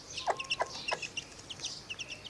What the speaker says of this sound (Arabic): شايفين الفرخة الهندي؟